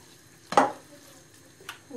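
A spoon stirring beetroot salad with parsley in a bowl, one brief wet scrape and clatter followed by a faint second touch, close and otherwise quiet.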